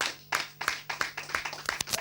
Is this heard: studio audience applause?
yes